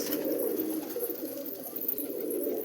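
Caged pigeons at a pigeon seller's place on a high school road coo softly and steadily, faint and continuous under a low background hum.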